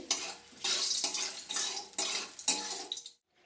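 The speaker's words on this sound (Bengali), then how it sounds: "লবণ দিয়ে ভালোভাবে আমি নেড়ে ছেড়ে নিচ্ছি।" Fried green banana pieces stirred with salt in a metal pan, a run of close scraping, clattering strokes in quick bursts with faint sizzling between, ending abruptly in silence.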